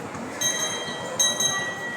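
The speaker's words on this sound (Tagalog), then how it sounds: "We take a ride. Train." Small ride-on train moving through a shopping mall, a soft rolling hum with light metallic clinks and faint squeaks amid indoor ambience.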